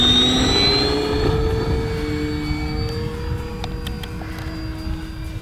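An Avios Zazzy RC plane takes off into a headwind, its electric motor giving a loud, steady high whine that gradually eases and recedes while a wind-buffeted background rumbles underneath.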